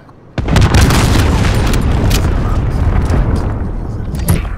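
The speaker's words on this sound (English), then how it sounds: "Allied cruise missile away." Cruise missile explosion in Modern Warfare, a sudden massive boom that hits after a short quiet moment, then a long roaring, crackling rumble with scattered pops, loud and close throughout.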